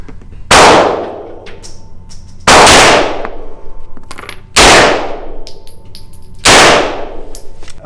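A rifle fitted with an AT3 ARO red dot sight is test-fired: four sharp, loud gunshots land at roughly two-second intervals, each ringing out briefly.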